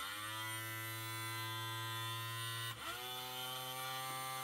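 A small DC motor driven by a full-bridge controller runs with a steady electric buzzing whine, then briefly stops and restarts as it reverses direction, continuing at a constant level.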